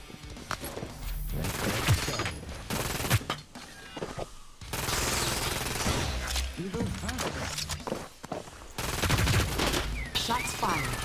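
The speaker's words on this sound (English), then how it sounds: "Shots fired." Rapid gunfire in the video game Hyper Scape, dense bursts of automatic shots and sharp cracks with impact thuds, loud and close, broken by short pauses and dropouts between volleys.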